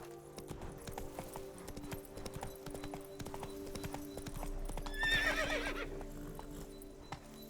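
Hooves of Roach, the horse in The Witcher 3, clip-clop in a steady close rhythm, with a brief whinny partway through and faint talk underneath.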